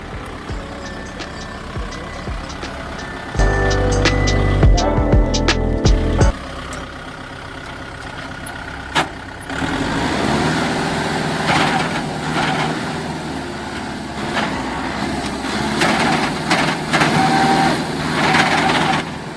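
A heavy Kubota tractor engine runs steadily throughout, rumbling low with a louder surge early on, as the tractor works to get unstuck on a farm.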